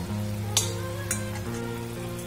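Dried red chilies fry in oil for a raw mango chutney with a steady, close sizzling hiss, broken by a couple of brief sharp pops.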